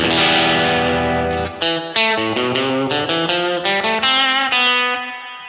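An electric guitar through a Kemper Profiler plays a sequence of distorted notes, each trailing into echoing delay repeats and a washy reverb tail that fades at the end.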